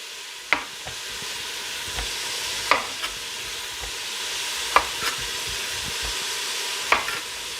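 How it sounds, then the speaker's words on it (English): Garlic flash-sautéing in a pan for tomato basil soup, a soft continuous sizzle close by, broken by several sharp clinks of a utensil stirring against the pan at irregular intervals, with no talking. "we'll drop in the garlic, quickly flash saute that"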